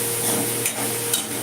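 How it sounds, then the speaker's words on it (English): A spoon stirs red chili in a cooking pan over a steady sizzle, with a few brief scraping touches against the metal, no talking. "So I'm adding this red chili also here. I'm going to give it a stir right now."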